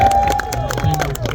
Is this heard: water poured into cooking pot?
no